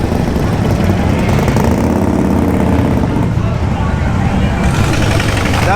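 A constant, loud roar of many motorcycle engines fills downtown Sturgis during the 2020 rally in South Dakota, a thick rumble with throbbing engine tones that eases slightly after the midpoint.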